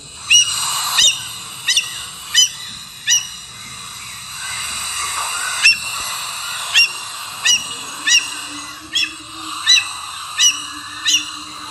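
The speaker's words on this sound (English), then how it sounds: "Birds you can always spot here are gray hornbills." Gray hornbills calling around trees in the grounds of a government Ayurveda hospital in Bailhongal, a series of loud, sharp, honking squawks repeating every second or so over a steady background of other birdsong.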